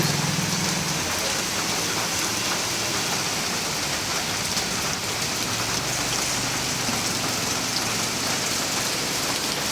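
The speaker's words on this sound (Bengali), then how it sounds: "খুব বৃষ্টি হচ্ছে দাঁড়িয়ে আছি" Heavy rain pours continuously on a roadside stop during a motorbike trip from Haldia to Siliguri, a dense loud hiss of drops hitting surfaces with no letup.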